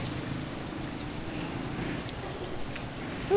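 Steady rain falls outdoors while people wait for a jeepney, giving a continuous, even hiss of drops across the whole stretch, with no talk.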